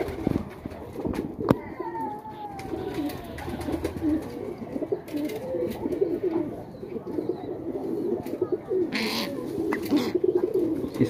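A Teddy highflyer pigeon coos softly in a loft, its low repeated calls mixed with someone talking and children's voices in the background.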